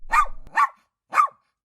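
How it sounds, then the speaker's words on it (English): A dog barks three times, two quick barks followed by a third after a short pause, close and clear with no other sound around it. "One day, while Timmy was at the park, he heard a bark."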